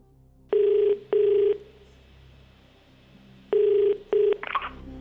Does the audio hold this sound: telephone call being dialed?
yes